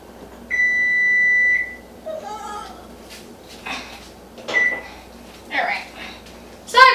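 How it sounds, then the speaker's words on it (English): An oven timer beeps in a home kitchen during peanut butter kiss cookie baking: one long steady electronic tone, loud and close, followed by a few short bursts of nearby talk. "the oven is beeping, y'all"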